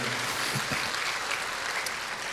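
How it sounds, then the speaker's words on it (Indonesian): Congregation applause at a church service, a brief, dense burst of many hands clapping at an even, full level, with a few low murmurs early on. "Berikan tepuk tangan kita untuk Tuhan kita"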